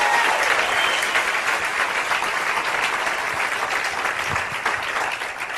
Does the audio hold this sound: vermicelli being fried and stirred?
no